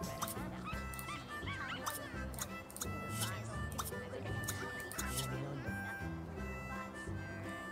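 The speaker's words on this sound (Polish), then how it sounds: "O, znowu pies nam się zlał." A dog whimpers and yips in The Sims 2, with short repeated whines over a busy game soundtrack of ticking and tones, and a person talks over it.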